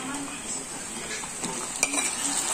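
Tomatoes sautéing in a pan for a mung bean stew, an even sizzle with soft stirring scrapes and a sharp utensil tap near the end.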